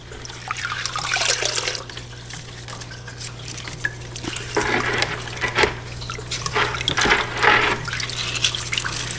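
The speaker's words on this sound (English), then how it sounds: "I just put that into my bucket and swish it out gently" An aquarium filter sponge is swished in a bucket of water, giving continuous close sloshing and splashing in irregular surges, with a low steady hum underneath.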